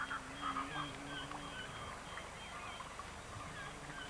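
Hoatzin birds, the musty-smelling stink birds, give faint, hoarse, turkey-like calls at a distance, repeated a few times over a quiet natural background.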